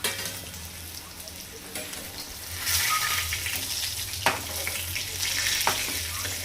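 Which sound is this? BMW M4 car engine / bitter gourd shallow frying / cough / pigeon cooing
bitter gourd shallow frying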